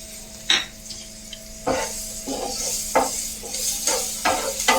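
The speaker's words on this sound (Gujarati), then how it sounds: "તો આપણે મરચાં થોડાક સટવાઈ જાય એટલે આપણે એમાં નાખશું 1 નંગ ઝીણી સમારેલી ડુંગળી।" Finely chopped onion tossed in with sautéing green chillies in a pan for moong dal appam: a soft oily sizzle broken by several sharp, irregular scrapes and clinks of a spoon stirring against the pan, close up with no talking.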